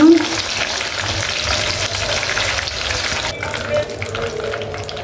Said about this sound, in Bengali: এখন সিনা ভাজবো অল্প অল্প জলে অস্ত অস্তে ভাজতে হবে